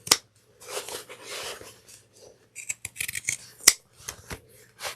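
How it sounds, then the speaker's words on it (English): Pinking shears and regular scissors snipping fabric while cutting a clutch pattern, heard as a close, quiet series of irregular crisp snips and rustles with no talk. "I'm going to grab my pinking shears and my regular scissors. I'm going to snip all the way down to the 3/8 of an inch"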